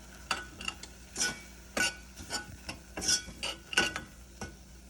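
Spices and tomato for a chicken curry are stirred in a pot, giving repeated scraping clinks of a utensil against the metal in an uneven rhythm, with a faint sizzle underneath and no talking.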